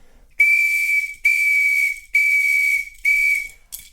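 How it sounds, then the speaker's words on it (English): A samba whistle blown in four long, loud blasts with short gaps, then a brief fifth burst at the end, shrill and close with no other instruments or voices. "So we'll hear the whistle first."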